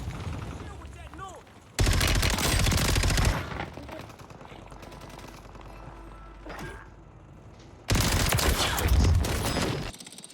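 Heavy bursts of automatic gunfire in a shooter video game, two loud sustained volleys separated by quieter stretches of distant shots and game ambience.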